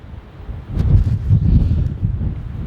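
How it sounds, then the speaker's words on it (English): Strong wind buffets the microphone on top of a castle in Milan, Italy, a steady low roaring rumble that swells and gusts throughout with no one speaking. "My camera or my gimbal cannot contain the wind."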